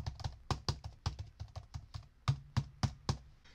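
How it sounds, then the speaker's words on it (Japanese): Rapid clicking keystrokes on a computer keyboard, close and fairly loud, with irregular bursts of taps and a few heavier strokes, recorded through an inexpensive WATTS condenser microphone with no talking. "キーボードの打鍵の音はこんな感じ"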